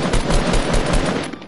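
Rapid automatic gunfire from the video game Fortnite rattles loudly and continuously in dense bursts throughout, with no talking over it.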